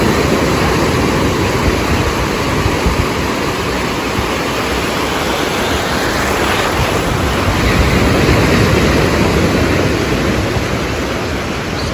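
Rough sea surf at Nacpan Beach in Palawan, Philippines, a loud continuous roar of breaking waves mixed with heavy wind buffeting the microphone, filling the whole stretch without voices.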